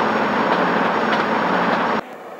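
In GTA San Andreas, a loud, steady roar of a train bears down at close range, then cuts off abruptly, leaving a quieter hum behind; no voices are heard.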